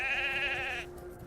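A sheep in Lord of the Rings Online lets out a single clear, wavering bleat lasting under a second, close and loud over a faint steady game ambience.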